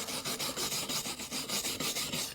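Hand scraping of slag from a fresh weld bead laid by a Deko Pro welder, a steady series of close, harsh rasping strokes, about ten in quick rhythm, with no talk.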